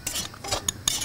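A spoon stirs chili powder and coriander powder through hot coconut oil in a pan, making a few soft scraping, clinking strokes with a faint sizzle underneath over about a second.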